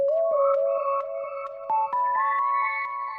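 A synth lead run through the Portal Like Water effect plays a short melody of repeated notes, sounding shimmery and layered with extra higher tones and a wide, watery texture, alone with no talk.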